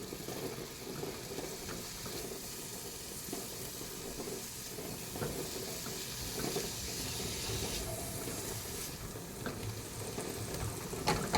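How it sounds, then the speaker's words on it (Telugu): Chopped onions frying in oil in a pan for a vegetable sandwich filling, a steady broadband sizzle lasting throughout with faint scraping stir strokes, moderately quiet and with no talking. "ఆనియన్స్ వేసి ఫ్రై చేయాలి కొంచెం"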